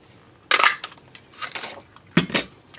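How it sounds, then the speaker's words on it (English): A 2-inch circle punch presses through paper with three distinct crunchy snaps, evenly spaced and close, in an otherwise quiet room. "this one we're going to cut out with the 2-inch circle punch"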